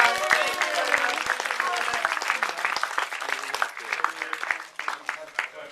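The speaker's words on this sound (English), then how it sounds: "A big hand of applause." Lively audience applause at a film festival screening event, dense and continuous throughout, with some sharper individual claps standing out near the microphone and a hint of crowd murmur.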